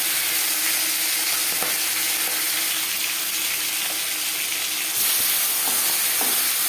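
Rohu fish head frying in four spoons of hot refined oil, a steady loud dense sizzle and crackle throughout, growing slightly louder and brighter near the end.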